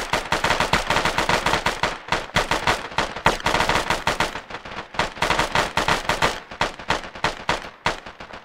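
Rapid automatic gunfire in the military shooter game Arma, dense bursts of loud cracking shots fired nearly continuously with brief pauses, close and dominant.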